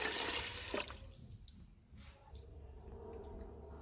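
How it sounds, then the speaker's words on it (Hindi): Water pouring into a pressure cooker on a lit stove with beans, rice and lentils inside, a splashy burst at first that settles into a softer, steady trickle. "1 लीटर पानी ऐड करेंगे।"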